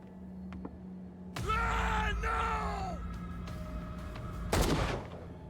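Gunfire in the horror video game Call of Cthulhu: a loud, sharp shot bursts out near the end, following strained, wailing groans and cries, all over a steady low game-ambience hum.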